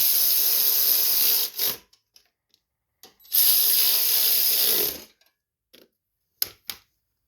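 Ratchet tightening the carburetor bolts on a Craftsman push mower, two long bursts of rapid ratcheting clicks separated by short pauses and a few brief single clicks, close and fairly loud.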